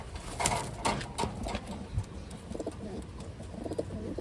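A Taiwan racing pigeon coos close by, a few soft, throaty rolling calls repeated over a few seconds, with light handling noise and faint background sounds.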